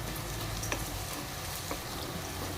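Curry leaves and onion crackle in hot oil as a tempering for broken wheat pulao, a steady close sizzle filling the whole stretch with no voices.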